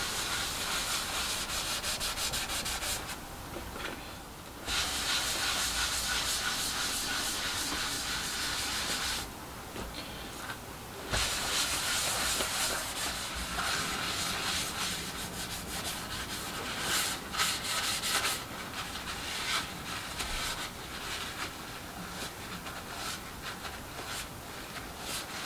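Waxy release coating is rubbed off a nosecone mould by hand, a continuous close scrubbing and rubbing with brief pauses between strokes, steady and alone for about twenty-five seconds.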